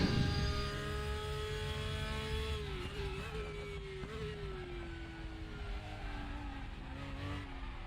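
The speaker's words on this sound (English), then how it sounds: "I love the noises the cars make." Race cars in the RaceRoom racing sim game, a loud engine note rising and falling through shifts and revs as cars pass, with faint tire squeal, no talk.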